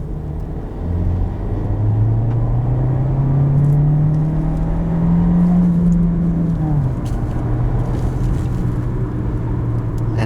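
A 2020 Volkswagen Jetta S with a manual gearbox and a 1.4-liter turbocharged four-cylinder accelerates, its steady engine drone rising slowly in pitch, then dropping as the gear changes near the end, heard from inside the cabin with road rumble underneath.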